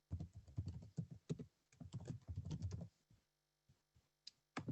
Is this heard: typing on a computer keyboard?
yes